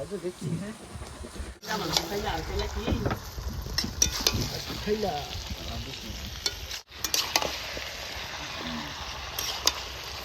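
Marinated chicken is stirred while it fries in a pan, with steady sizzling and repeated scraping and clinking of a utensil against the pan. Two abrupt cuts break the sound, and a voice is heard only faintly.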